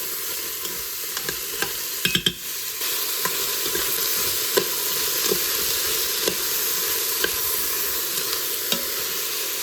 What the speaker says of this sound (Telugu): టర్మరిక్, సాల్ట్ వేసేసి ఒకసారి సాటే చేశాను